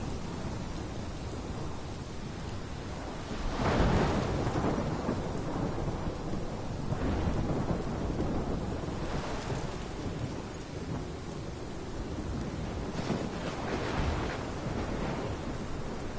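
A thunderstorm in Life is Strange brings steady heavy rain with several deep rolling thunder rumbles swelling and fading, loud and near, with no speech over it.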